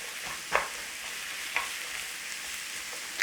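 Lentil bolognese sizzles steadily in a single pan over a medium flame, a soft continuous hiss broken by a few scraping stirs about a second apart, close and fairly quiet with no talking.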